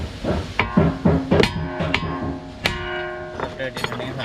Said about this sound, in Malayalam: ഈ ഒരു ഏരിയ ആയിട്ട് നമ്മുടെ ചുറ്റി എടുത്തിട്ട്